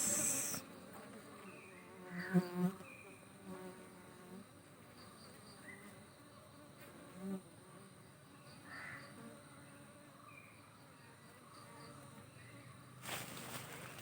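Honey bees buzz around a hive on a honey bee farm, a steady insect drone running throughout with crows cawing in the distance and a few brief louder knocks.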